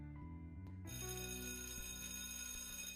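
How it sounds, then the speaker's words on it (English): A bell rings in a visual novel, a sustained electronic-sounding telephone-style ring that starts abruptly and carries on steadily at close range, with a music-like tonal bed beneath it. "The bell sounds as Alice treads closer."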